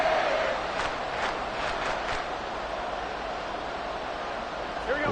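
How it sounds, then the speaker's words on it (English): Loud football stadium crowd roaring and cheering on third and long, a dense sustained wall of noise that stays steady throughout, with brief louder surges of shouting near the start. "This crowd turning up the decibel level"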